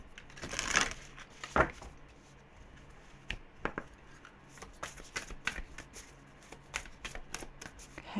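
An oracle card deck is shuffled by hand in a quiet room, giving a brisk riffle followed by scattered soft card slaps and clicks, close and fairly quiet, with no talking.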